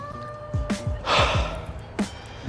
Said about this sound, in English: Sorry, breathing hard.